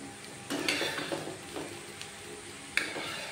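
A breakfast item fries in a pan and is turned from side to side: a few sharp clinks and scrapes of a utensil against the pan over a quiet, low sizzle, with short pauses between the turns.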